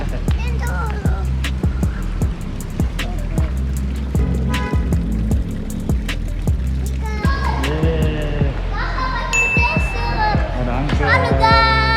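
Kids splash and play in a children's pool at Hotel Foxlite in Makassar, with repeated splashes and water sloshing close by and children's voices and chatter over the steady water noise.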